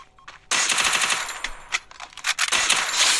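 Rapid bursts of VSS rifle gunfire in the Free Fire video game, loud dense volleys of shots with a brief pause before a final sustained burst.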